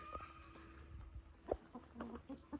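Hens and a rooster cluck in a farm flock on a rainy day, with short irregular clucks, a couple of louder nearby calls and quieter background fowl chatter.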